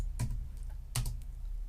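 Keystrokes on a computer keyboard while entering a shortcut, two distinct clacking presses about three-quarters of a second apart with a few lighter taps between, close and clear.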